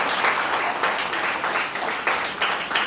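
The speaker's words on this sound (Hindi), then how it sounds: "तब मैं ताली बजाऊंगा।" A preacher clapping his hands during a Hindi thanksgiving church service, a run of loud, rhythmic claps repeating at a quick, even pace, close and without talk.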